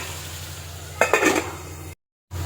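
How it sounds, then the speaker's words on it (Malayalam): Brief scraping and clinks of a spoon stirring bitter gourd filling in a pan, a short burst over a low steady hum, then a sudden cut of silence. "നല്ലപോലെ ഇളക്കി യോജിപ്പിച്ച് അടച്ച് വയ്ക്കാം."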